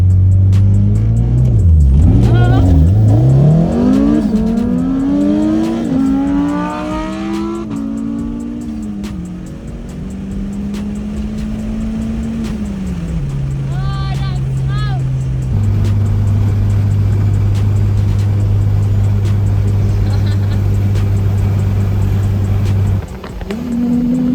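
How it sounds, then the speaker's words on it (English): Audi STO and Evo racing side by side, engines revving hard with rising and falling pitch sweeps, then settling into a sustained loud drone; voices talk over the engines. "Race between the STO and the Evo."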